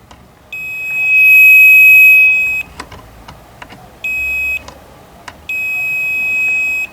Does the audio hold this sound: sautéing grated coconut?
no